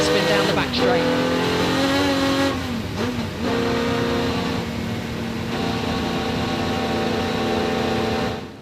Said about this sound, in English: we'll even listen to some of the wheel spin down the back straight